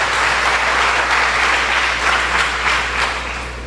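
A church congregation applauds during a sermon, producing a full, steady wash of clapping over a low constant hum, easing slightly toward the end.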